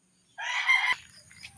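Chickens clucking and a rooster crowing loudly once at close range on a morning farmyard, the crow ending abruptly and followed by softer low clucks and rustling.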